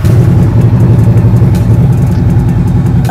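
Victory Cross Country motorcycle from 2017 with a 1700 cc V-twin engine running steadily, a loud, close, continuous low rumble with a pulsing idle throb and no talk.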